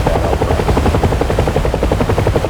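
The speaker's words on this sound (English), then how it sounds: "There's a small helicopter." A small helicopter in a naval flight game thuds with fast, even rotor chop, loud and close, the rhythmic beating steady throughout with no voices over it.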